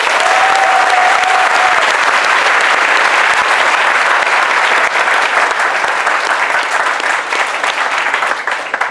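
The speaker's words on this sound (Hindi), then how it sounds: "इसलिए सर के लिए और एकेडमी के लिए तालियां बजती रहनी चाहिए।" Sustained, dense applause from a large audience at an academy results celebration, steady and loud from start to finish, with a faint tone at the start and hardly any voices.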